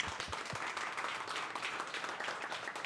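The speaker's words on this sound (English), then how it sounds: "Okay, round of applause for Alejandro." An audience at a tech talk gives a short round of applause for a speaker, dense clapping that stays fairly soft and even for a few seconds.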